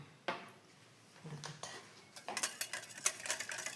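Banana cake batter with vanilla essence is whisked in a bowl, starting with a few scattered clinks and stirs, then quickening into light, rapid metallic taps, fairly quiet and close.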